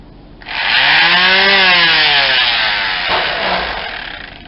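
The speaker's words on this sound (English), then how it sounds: "Finna get sanding on this thing." A power sander runs on an old Coleman 426D three-burner stove part, a loud, close, steady whine that starts abruptly, dips in pitch as it loads up, and eases off toward the end.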